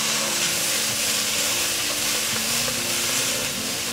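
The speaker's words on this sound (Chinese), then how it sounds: "把调味料炒匀，" Sweet potato and mushroom stir-fried with salt, white pepper, sugar, rosemary and black pepper in a wok, a loud steady sizzle and hiss of frying close by, with scraping stirs underneath.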